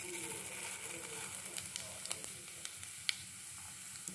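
Cumin seeds and urad dal sizzle in hot oil in a pan, a soft continuous frying hiss with scattered small crackles and pops, faint and close.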